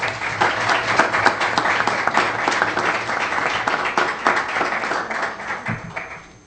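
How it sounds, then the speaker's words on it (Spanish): An audience at a national security conference in Mexico claps in sustained, dense applause for several seconds, loud and close, tapering slightly toward the end. "Un fuerte aplauso, por favor, para Rafael"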